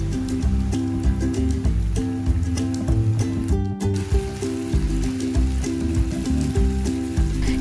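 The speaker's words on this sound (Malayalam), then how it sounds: "ഇനി നമുക്ക് ഇതിലേക്ക് അരിഞ്ഞു വെച്ചിട്ടുള്ള സവാളയും അല്പം ഉപ്പും കൂടി ഇട്ട് ഒന്ന് ഇളക്കിയെടുക്കാം." Chopped onion and a pinch of salt are stirred into hot oil for Gobi Manchurian, with a steady crackling sizzle and scraping of the spoon against the pan.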